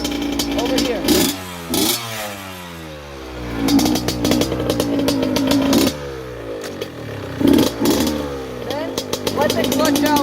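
A dirt bike engine putters and revs up close as the rider eases out the clutch and pulls away, its pitch rising and falling with throttle while a voice talks over it.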